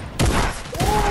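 A burst of rapid gunfire from a shooter video game rattles close and loud, a quick volley of overlapping shots with a brief ringing tail.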